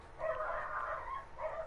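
Dogs bark in another room, muffled and faint. A run of yapping barks blends into a continuous, distant clamour with a brief dip before a last bark.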